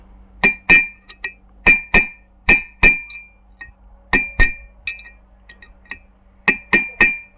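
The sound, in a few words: hammering out a VW Golf 3 wheel bearing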